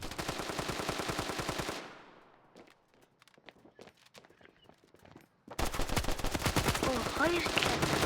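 Gunfire from a randomly spawned gun in a video game, with loud rapid automatic bursts at the start and again at the end. Quieter scattered shots fall between the bursts.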